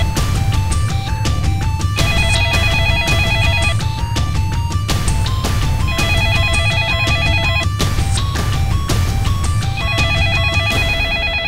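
Unanswered, a telephone keeps ringing in regular electronic bursts, each a warbling trill, loud and near over a dense low background rumble, repeating without pause for over ten seconds.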